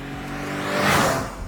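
A Tata Tiago hatchback's engine revs up, swelling to a loud peak midway and then easing off, heard close with no talking.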